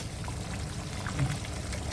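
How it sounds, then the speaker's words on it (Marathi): Hot water is poured into a prawn curry masala in a pan, a soft, continuous pouring and gurgling of liquid heard close for a couple of seconds, with no voices. "आता हे गरम पाणी पण टाकते आहे।"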